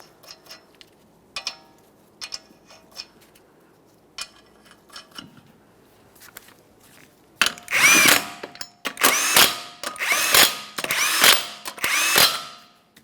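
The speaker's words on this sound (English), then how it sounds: "start on all 5 of your 21mm lug nuts and we'll bottom them out" An impact power tool spins 21mm lug nuts down onto a Toyota Corolla front wheel, giving five loud, close bursts in quick succession after a stretch of quiet clinks and taps.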